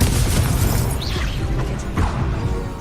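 A Confringo fire spell exploding in Hogwarts Legacy, loud booming blasts with crackling, shattering debris, one burst after another over about three seconds.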